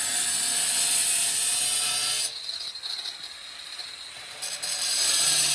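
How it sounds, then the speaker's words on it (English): An angle grinder cuts a circle through bathroom tile around shower taps, a steady loud whine that drops into a thinner, rougher grinding midway before rising back to full level. "You see how I have the tip of my grinder"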